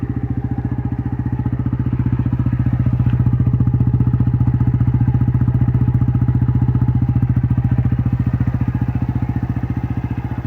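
A nearly new Yamasaki 95cc motorbike with a slightly burnt exhaust runs steadily and loudly throughout, its engine holding an even, throbbing note with no talking.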